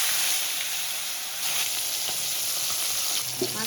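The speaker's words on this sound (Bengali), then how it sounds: "মাছটা ভাজবো" Fish frying in hot oil in a home kitchen: a bright, steady crackling sizzle close by, continuous throughout with a few faint clinks near the end.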